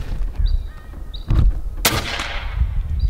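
An FX Impact M3 air rifle fires at squirrels outdoors, with a sharp, close crack followed by a short noisy tail amid faint birdsong and light background rustle.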